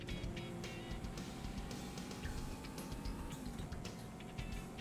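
A Toyota Supra engine in a 1996 PlayStation game drones at a steady low pitch, quiet and muffled, with faint clicks and ticks on top.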